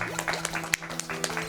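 An audience claps and cheers during a live speedrun charity event, a short burst of scattered applause with a steady electronic hum underneath and a voice speaking over it.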